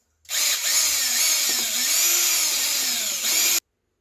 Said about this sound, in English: I'm going to go to my drill and pre-drill.